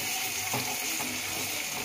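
Chopped onions frying in a pan at home, a steady soft hiss of sizzling oil with faint stirring scrapes, moderately close and continuous, no talking.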